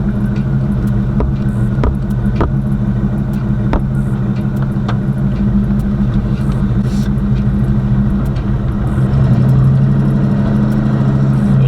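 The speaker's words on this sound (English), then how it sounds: "I love to drive this car, man. I love driving this car. For one, it sounds good" A Chevrolet Box Chevy engine rumbles steadily while driving, a low, constant drone heard from inside the car with a few faint clicks over it and no talk.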